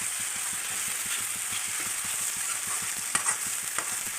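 Chopped tomatoes frying in a pan for a fish curry, stirred lightly, giving a continuous sizzle with quick, regular stirring taps and a couple of louder clinks near the end.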